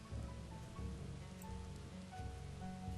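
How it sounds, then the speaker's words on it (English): Rain falls in the city-building game Banished, a soft steady patter of drops with a faint low hum underneath and no speech. "We got some rain."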